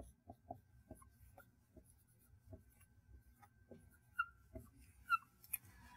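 Chalk or marker on a lecture-hall board, faint intermittent taps and short scratchy strokes over about six seconds, quiet and close with no talk.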